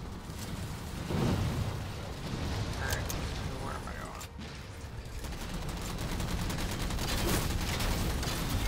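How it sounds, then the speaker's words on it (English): Dense bursts of gunfire and explosions rumble through a Halo 4 battle, a continuous rolling barrage of booms and rattling shots that fills the whole stretch. "Why is everything exploding?"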